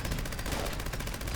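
Rapid, continuous gunfire from an explosive weapon in the video game Fallout 76, with dense, even bursts running loud throughout with no pauses.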